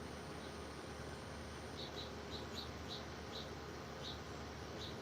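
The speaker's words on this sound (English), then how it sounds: "I don't know if you guys can hear the bird." A small bird chirping outdoors, faint repeated short high calls in irregular bursts over a quiet background hiss.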